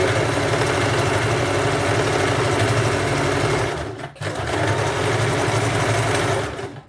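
A sewing machine stitching a salwar, a pair of ladies' pants, runs close and steady with a fast, even mechanical whir, stops briefly, then starts again at the same pace.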